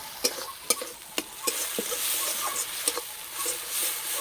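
Prawn stuffing with chilli, cumin and turmeric powder and salt, cooked until dry for a Bengali potol dorma, sizzles steadily in a pan while a spoon scrapes and taps through it in a regular rhythm, close and alone.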